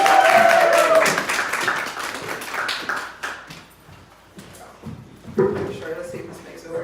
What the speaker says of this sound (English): Clap it up for Christina.